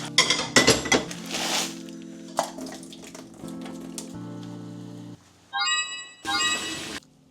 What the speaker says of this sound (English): I'm gonna start cooking this on the stove